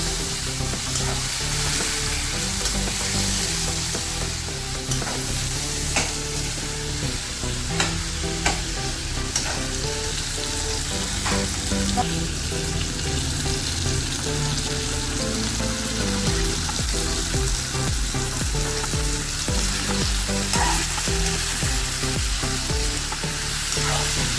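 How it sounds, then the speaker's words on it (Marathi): Potato pieces sautéed in a pan with fried onion and tomato, an even loud sizzle running throughout, with repeated scraping and clicking of the spoon as the mix is turned, no voices. "चांगलं परतून घ्या बटाटा।"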